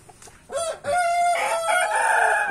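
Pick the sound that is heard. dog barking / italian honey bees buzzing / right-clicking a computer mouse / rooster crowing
rooster crowing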